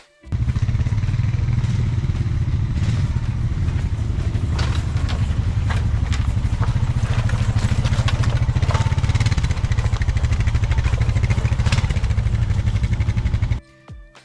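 A 2023 Honda Foreman ATV engine runs steadily and loud throughout while being ridden, a continuous low rumble with clattery mechanical texture, cutting off abruptly near the end.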